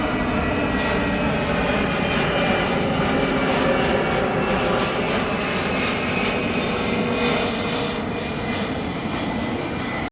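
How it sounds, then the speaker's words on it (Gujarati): An airplane drones steadily overhead near Ahmedabad, a continuous broad engine roar holding loud and even for the whole stretch with no talk. "તો જો આ ત્રીજું વિમાન આવ્યું."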